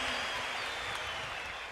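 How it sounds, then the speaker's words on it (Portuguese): Steady, dense applause from an audience at a church preaching event fills the room and holds at an even level throughout, with faint voices mixed into it. "Pode aplaudir, pode aplaudir."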